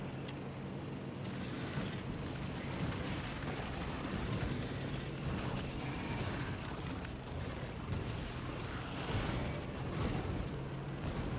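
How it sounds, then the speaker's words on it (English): Cannon fire and explosions in the factory-building game Factorio, a dense, continuous roar of rapid booms and blasts running for the whole stretch, steady and fairly faint, with no voices. "My cannon is too fast for the trap."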